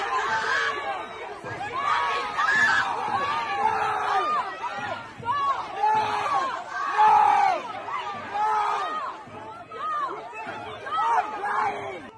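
A protest crowd chants and cheers in loud, rhythmic waves of massed shouting voices, close and sustained, with chatter running between the chants.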